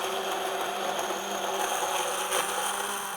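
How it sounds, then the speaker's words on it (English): Simple immersion blender whirring steadily through aioli in a home kitchen, a continuous close motor drone with no pauses and no talk over it. "So this is just a simple immersion blender."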